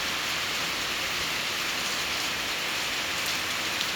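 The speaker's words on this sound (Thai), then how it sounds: "แต่ฝนเม็ดน้อยนะ" Light rain falls in Laos, a steady even hiss of fine drops on surfaces, constant and close, with no voices.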